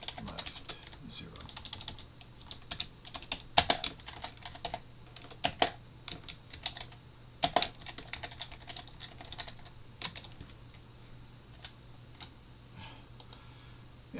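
Someone types code on a computer keyboard, close-up irregular clicking keystrokes in quick bursts with brief pauses, fairly quiet and steady throughout.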